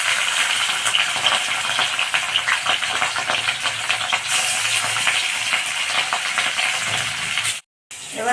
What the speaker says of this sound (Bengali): তেল গরম হয়ে গেছে, এবার আমি মাছটা ছেড়ে দেবো।